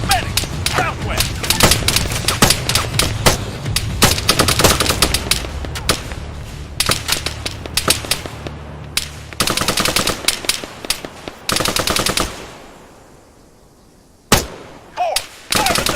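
Rapid machine-gun bursts and single gunshots crack out repeatedly in an Arma 3 firefight, loud and close, with brief pauses between volleys and shouted commands over the shooting.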